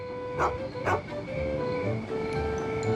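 A dog gives two quick barks close together, followed by a steady low background hum.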